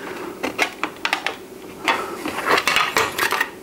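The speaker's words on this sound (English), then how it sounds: "Then the lid just goes on." A metal lid clacks and rattles onto the Colour Maximite computer case in a run of close, sharp knocks and scrapes, with no talking.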